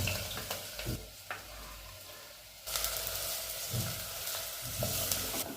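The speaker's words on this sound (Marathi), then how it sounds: "तेल गरम झाल्यानंतर कांदा आणि लसूण टाकायचं आहे" Onion and garlic fry in hot sweet oil, a crackling sizzle punctuated by soft stirring knocks; the frying swells noticeably louder halfway through and stays thick and close to the end, with no speech.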